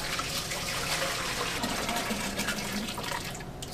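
Water pours steadily into a brewing kettle for a Pilsner mash, a continuous close gushing fill with no talk.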